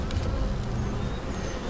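Honeybees swarm around an opened backyard hive, a steady low buzzing hum that holds at even loudness throughout with no voices.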